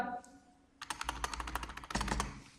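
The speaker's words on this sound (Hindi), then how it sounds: "जैसे लिखेंगे आप सुनील का नाम, ठीक, लिखेंगे इक्वल" Quick bursts of typing on a computer keyboard while entering an Excel formula, a short pause followed by rapid, close clattering keystrokes, fairly quiet.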